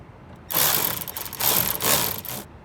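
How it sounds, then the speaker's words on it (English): An electric ratchet spins a bolt on the intake of a C7 Corvette Z06 during an air-charger install, giving a close, loud, continuous rapid clicking buzz for about two seconds in a few uneven pulses, with no talk. "we're gonna get our electric ratchet, make sure it's going the right direction"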